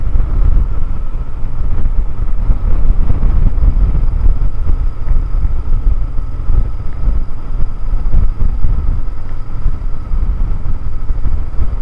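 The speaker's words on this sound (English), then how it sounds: "It's quite windy today." Steady low rumbling wind buffeting the microphone on a windy day, loud and continuous throughout with no speech.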